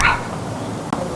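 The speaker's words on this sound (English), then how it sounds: "those dogs, they got something to say" Dogs bark outdoors at a cookout. One short, sharp bark comes at the start, then the scene settles into steady outdoor background noise with a brief faint sound near the end.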